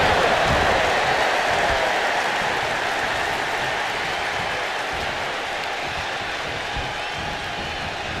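A big arena crowd in the WWE 2K25 wrestling video game cheers and roars in a loud, dense, unbroken wash that eases slightly over several seconds.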